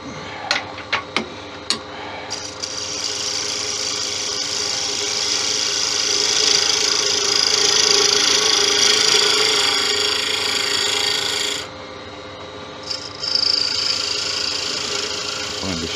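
A gouge cuts crossgrain tigerwood spinning on a wood lathe, a few sharp taps at first, then a sustained close rasping scrape that stops suddenly and resumes briefly, with no talking.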